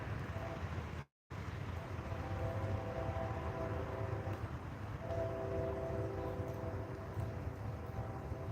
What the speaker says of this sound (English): Except for the friggin' trains.